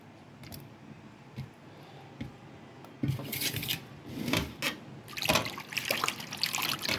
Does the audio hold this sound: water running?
yes